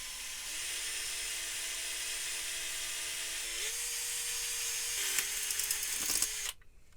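A small electric drill bores holes for tact switches, a continuous high motor whine that shifts pitch slightly a few times under load before stopping abruptly.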